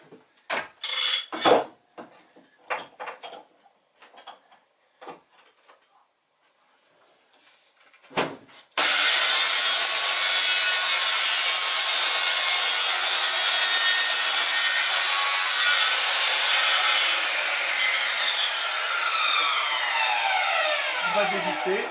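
A handsaw cuts a slice of wood for a model ship. Several seconds of scattered taps and handling noises give way to a continuous, loud, rasping saw stroke that runs for over twelve seconds, close up.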